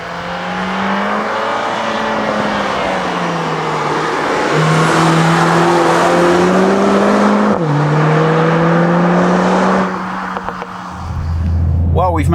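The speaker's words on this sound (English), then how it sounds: "we've managed to find a couple of nice bends just to show you some of the CLA's handling characteristics once you start throwing it into corners" Mercedes-AMG CLA 45 S pushed hard through a series of bends, its engine note loud and close, climbing and dipping steadily with each corner before easing off near the end.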